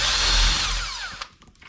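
Power drill boring a pilot hole through a wooden door while it is hung, a loud whirring spin that winds down and stops after about a second, followed by faint handling noises.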